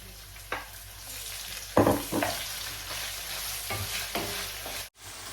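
Chicken hitting a pan of browned spices and thickened sauce for a curry, giving a loud splash then steady sizzling with a few stirring scrapes, close up and with no talk.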